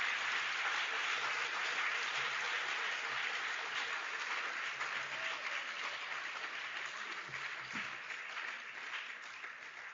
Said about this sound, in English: And now a round of applause for the entire class of